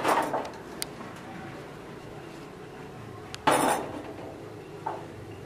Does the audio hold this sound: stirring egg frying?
yes